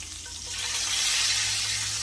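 Lamb sizzles in a hot pan, a close, bright frying hiss that swells slightly and holds steady throughout.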